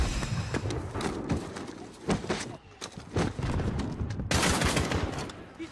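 Bursts of rapid gunfire in Call of Duty: Modern Warfare (2019), loud and close, with repeated volleys through the clip, the densest burst arriving near the end.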